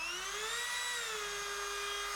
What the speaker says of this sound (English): And just go through nice and steadily with your router.